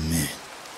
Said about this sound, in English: The rain is coming to an end.